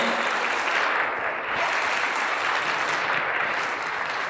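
Congregation applauding in a church, a dense, steady wash of many hands clapping at full volume throughout with no voices standing out.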